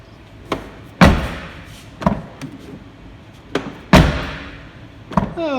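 Heavy doors on a Rover 75 car shut one after another, about six solid thuds and slams at uneven intervals, close by and loud, with no talking.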